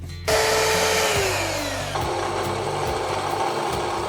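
A knife handle is ground on a power grinder, a loud continuous whine that begins abruptly and drops in pitch as it loads up, sustained to the end.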